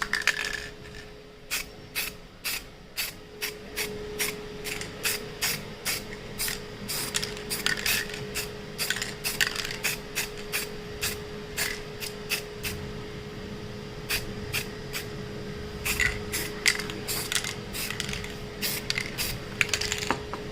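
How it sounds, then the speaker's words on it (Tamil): Spray painting a motorcycle foot rest gold on a modified Bajaj NS200, with short rhythmic hissing bursts of the spray can repeating steadily over a constant low hum, close and fairly loud, no talking. "ஸோ இதுக்கப்புறம் நம்ம ஸ்ப்ரே பெயிண்ட் பண்ண வேண்டியதாங்க."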